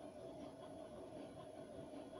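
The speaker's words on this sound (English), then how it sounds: "The rattle of wheel on track gives way to a shimming screech. Gradually, the train begins to slow." Shadowrun Dragonfall video game U-Bahn train, a steady faint rumble and rattle of wheels on track with a thin high whine, with no voices.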